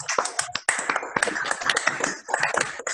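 Uneven claps and taps from online meeting participants with microphones unmuted, close and slightly clipped, arriving in ragged clusters with brief gaps.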